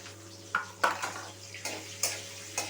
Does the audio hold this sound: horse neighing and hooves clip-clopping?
no